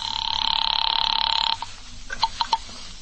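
A telephone rings twice in a steady, buzzy trill for about a second and a half each, then cuts off as the line is picked up, followed by a few faint clicks of the receiver in an old-time radio detective drama.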